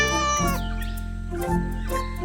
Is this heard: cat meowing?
yes